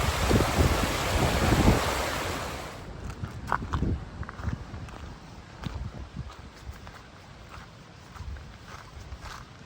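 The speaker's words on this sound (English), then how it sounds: "we have a nice running stream with a waterfall included" Rushing water from a stream and small waterfall at a campsite in Death Canyon, Grand Teton National Park, loud and broadband for the first few seconds, then fading to a softer flow with scattered footsteps and wind.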